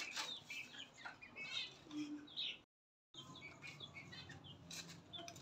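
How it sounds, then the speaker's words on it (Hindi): Caged birds in a home aviary chirp and chatter in a dense, continuous stream, broken by a brief moment of silence midway. "मास्टर केज के बर्ड्स को दाना पानी डालने हैं"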